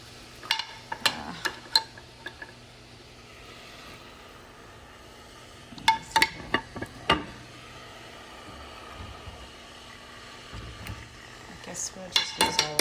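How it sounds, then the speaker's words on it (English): Homemade bone broth is scooped and poured into a pot of kimchi stew, with sharp clinks of a ladle against metal in scattered bursts over a soft background hiss, close and fairly loud, with no talk. "Now I'm just adding all the broth in."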